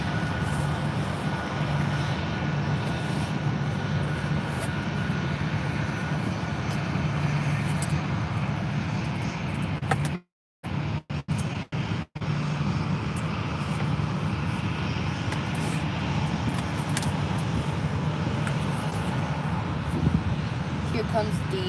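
A TUI airliner from Manchester arrives at Faro airport with a continuous, broad jet roar that holds steady, cuts out briefly partway through, then resumes.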